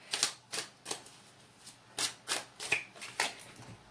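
Tarot cards handled and shuffled close by, a series of crisp papery flicks and slaps in an irregular rhythm of about a dozen bursts, with no voices.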